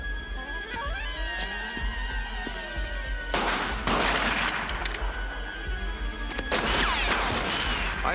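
Heavy gunfire in an animated adventure film set on Easter Island, with loud volleys of shots bursting out repeatedly over a rumbling soundtrack, the bursts clustering near the middle and end.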